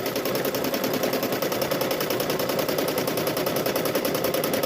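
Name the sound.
sewing machine free-motion quilting a tote bag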